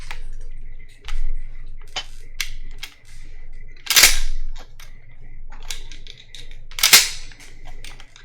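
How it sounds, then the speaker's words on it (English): Sharp mechanical clicks and clacks of shotgun shells being loaded in the video game Fall of Space, a sparse series of crisp ticks with two louder snaps spaced a few seconds apart over a low hum. "Load shotgun shells."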